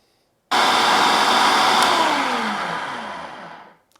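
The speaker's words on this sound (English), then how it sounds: "throw them into a food processor and just blitz them briefly" Food processor blitzing strawberries for a puree, a loud whirring motor bursting on, running steadily for about three seconds, then winding down as the pitch falls.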